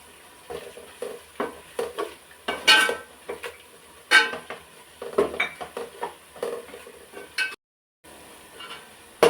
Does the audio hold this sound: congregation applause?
no